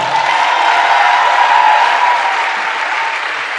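A church congregation breaks into loud, dense applause, a continuous roar of clapping from many people that holds steady and eases slightly near the end.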